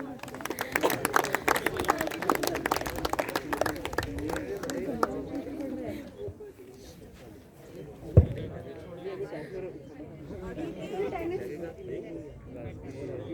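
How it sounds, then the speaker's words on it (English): Crowd at a school inter-school sports felicitation ceremony applauding the winners, with scattered clapping and chatter in the first few seconds, then fading into murmuring voices with a single sharp knock midway. "Huge round of applause for the winners."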